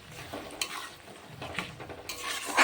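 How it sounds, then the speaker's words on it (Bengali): Chili chicken sauce with chili sauce, tomato sauce, salt and turmeric is stirred in a kadai, soft scraping strokes over a faint sizzle, quiet and close. "তো চলো এবার নাড়তে থাকবো"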